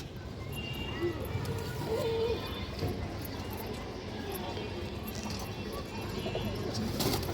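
A large, hand-sized pigeon coos in a few low, soft calls amid a quiet background murmur.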